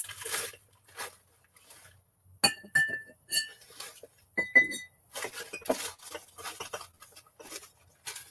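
Glass items, such as glass lids, clinking and tapping together at an estate sale, with bright irregular clinks and chimes spread through the clip, some ringing briefly, near and moderately loud.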